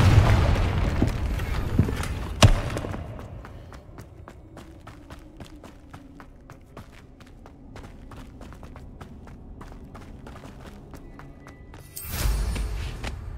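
A Confringo spell in the game Hogwarts Legacy sets off a sharp blast near the start, then quick regular footsteps patter under a low rumble before a second burst of noise near the end.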